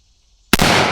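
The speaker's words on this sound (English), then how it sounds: "Now we got the 16-inch AR-10. We're gonna be running that same AAC ammo through it." A single sharp shot from a suppressed 16-inch AR-10 rifle with a Liberty Mystic X suppressor firing AAC ammo, loud and close, following near silence and trailing into a dense echoing tail.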